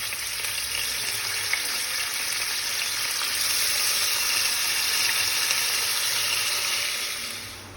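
Dried fish (karuvadu) pieces fry in oil over a high flame, a dense, loud, steady crackling sizzle heard close up, easing slightly at the very end, with no voices.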